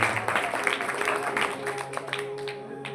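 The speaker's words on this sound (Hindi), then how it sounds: "एक बार इनके लिए भी जोरदार तालियां।" Audience at a live mind-reading show in Delhi clapping loudly for a participant holding a playing card, a continuous crowd applause with a faint steady tone running beneath it.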